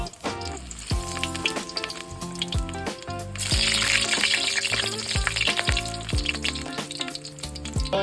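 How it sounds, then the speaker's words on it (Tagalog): Burger patties fry in a hot pan with a loud, close sizzle and spitting crackle that swells midway, layered with tonal kitchen noise and no speech. "Lalagay na natin ang mga patty. Siyempre, piprituin muna natin yan."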